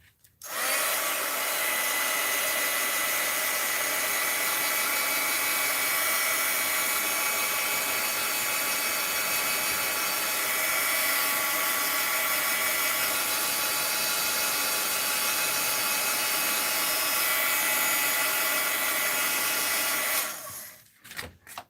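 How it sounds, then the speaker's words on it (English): A heat gun blows a steady, loud, unbroken whoosh of hot air for about twenty seconds while drying craft clusters, then cuts off abruptly with a couple of faint clicks. "And I took my heat gun off my desk. We want to dry that."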